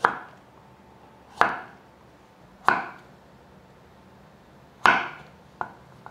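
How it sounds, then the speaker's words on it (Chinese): A knife cuts through pumpkin slices on a board for a folded rice ball, giving four or five sharp, evenly spaced chops close by, each a crisp thud with a short ring, with quiet gaps between them. "把南瓜切片"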